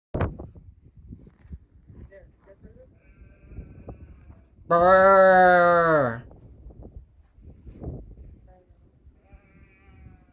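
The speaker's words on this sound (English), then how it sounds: "Yeah, so there were sheep pretty close there." A sheep bleats nearby in a single loud, drawn-out call lasting over a second, rising clearly above quieter background noise and faint movement, with a brief human mutter earlier.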